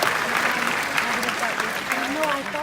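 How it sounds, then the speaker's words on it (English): Audience of thousands at a corporate family reunion event breaks into steady applause, a dense wash of clapping that carries on under a speaker's voice thanking them. "Oh, thank you for clapping."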